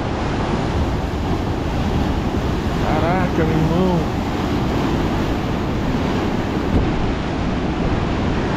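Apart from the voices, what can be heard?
big ocean waves crashing at Praia Grande beach, Arraial do Cabo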